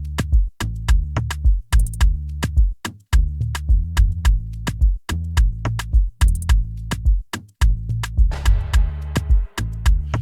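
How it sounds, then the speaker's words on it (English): Bass line from the verse of a produced hip-hop style beat, pulsing in a steady rhythmic pattern of deep notes with sharp percussive hits on top, loud and close with no talking, plus a brief impact effect near the end. "So the first bass in the verse sounds like this."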